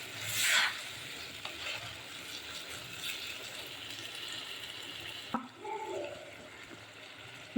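A spoon stirs rice into meat curry in a pot while making biryani, giving a soft wet scraping and sizzling texture with a louder stir near the start and a clunk of the spoon against the pot toward the end.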